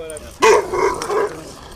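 Dogs bark at an on-leash area of a park, with one loud sharp bark followed by a couple of softer yips and whimpering barks nearby, alongside a brief voice.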